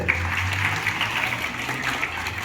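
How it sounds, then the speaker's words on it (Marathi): Theatre audience at a comedy play promotion giving applause, a continuous, even wash of clapping from a crowd with a low hum underneath, steady throughout the brief moment. "जोरदार टाळ्या वाजवायचे"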